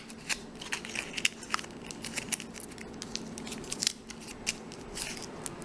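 Paper wrapped with shiny aluminum foil is folded by hand, giving a steady close crinkling and crackling with many small irregular crackles and no talking.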